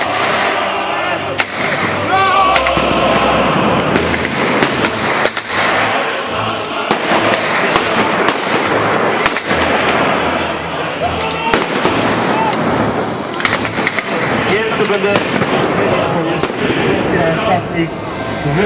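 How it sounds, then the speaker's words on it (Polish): Loud, booming explosions and sharp blasts go off repeatedly in a dense, chaotic barrage at a historical battle reenactment in Bydgoszcz, with continuous battle noise throughout. "Wybuch."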